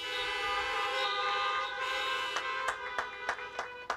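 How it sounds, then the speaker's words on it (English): Car horns honking in a scattered series of short toots at an outdoor drive-in high school graduation for the class of 2020, rising over a steady vehicle hum toward the end. "Let's give them a big honk of applause."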